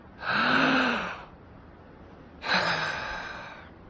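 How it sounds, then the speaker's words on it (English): Two long, deep breaths from a Wim Hof breathing exercise, each a strong airy inhale or exhale lasting about a second, close to the microphone, with a short pause between them and no talking. "So you start by taking 20 or maybe 30 breaths like this."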